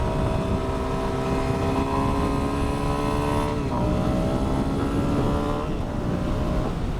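A Suzuki DRZ400S dual sport motorcycle ridden through county road corners, its single-cylinder engine droning steadily close up, revs easing and dipping briefly at a couple of points under constant wind rush.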